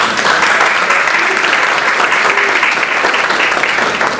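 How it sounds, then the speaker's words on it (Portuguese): A loud, dense burst of audience clapping fills a conference hall at an art colloquium, steady and unbroken for several seconds. "uma salva de palmas."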